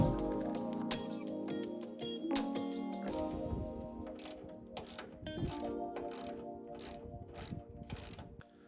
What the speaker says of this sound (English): Remove the two 8mm screws.